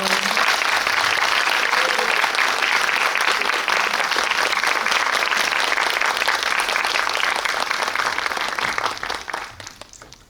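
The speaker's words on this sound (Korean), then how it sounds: "큰 박수로 환영해 주십시오" Sustained loud applause from a cinema audience at a film screening Q&A, dense and steady for several seconds before tapering off toward the end.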